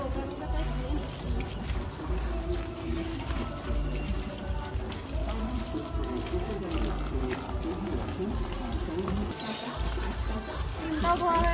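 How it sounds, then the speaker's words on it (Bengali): Fresh peas and green chillies being rinsed by hand in water, with steady splashing, sloshing and trickling that run continuously and fairly close throughout. "মটরশুঁটিগুলো আমি এখন ধুয়ে নিচ্ছি, সাথে কাঁচা লঙ্কাগুলো নিয়ে নিচ্ছি"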